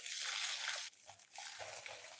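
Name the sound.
pouring boiling water into a cooking pot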